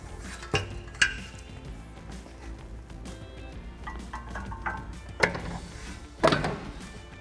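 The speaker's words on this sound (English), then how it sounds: "we'll grab the hardware that's provided with the kit and hand tighten it in place" Light metallic clinks and taps of bolts, washers and hex head plates being handled and hand-tightened while fitting flat fender flares on a Jeep Gladiator JT, with a few sharp isolated clicks over quiet room tone.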